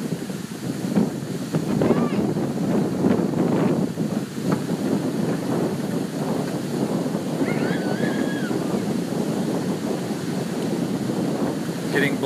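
Strong wind buffets the microphone beside a lake whipped into whitecaps, a loud, continuous rushing roar with surging gusts and wave wash, and a faint call briefly heard far off.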